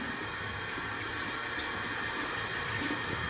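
Tap water runs steadily into a bathroom sink, a continuous close hiss and splash with no pauses and no talking.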